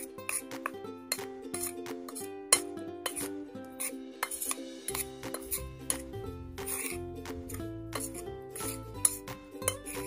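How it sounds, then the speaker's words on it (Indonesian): Brownie batter being stirred in a bowl with a utensil, giving close, quiet clinks and scrapes in an irregular rhythm of rapid taps against the bowl. "Terus tinggal diaduk sampai rata."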